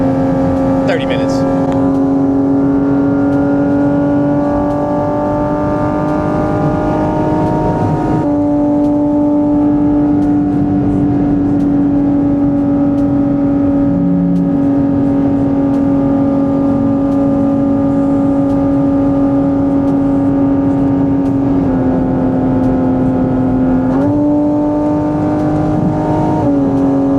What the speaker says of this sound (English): Downshifts are so satisfying. Just the shifts in general.